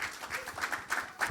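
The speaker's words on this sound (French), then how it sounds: "Maintenant, nous allons vous demander de bien vouloir applaudir nos panélistes." At a men's panel event in a church, a small audience claps for the panelists in a brief, uneven burst of scattered hand claps at moderate distance, with a few sharper claps toward the end.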